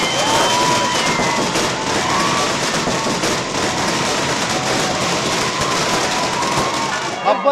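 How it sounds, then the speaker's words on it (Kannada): Firecrackers burst in a dense, continuous crackle at a celebration for the reinstallation of a Sangolli Rayanna statue, loud and close, with crowd noise underneath. "ಈ ವೇಳೆ ಪಟಾಕಿ ಸಿಡಿಸಿ ಸಂಭ್ರಮಿಸಿದರು."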